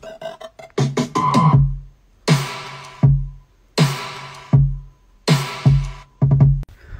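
An electronic drum pattern of punchy kicks with a deep, booming tail, sharp bright snare hits and quick clicky fills, loud and alone with no voices.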